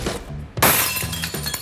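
An ordinary, very brittle glass pane shatters in a single loud, sharp break, with a burst of crashing fragments followed by scattered tinkling and settling debris close by.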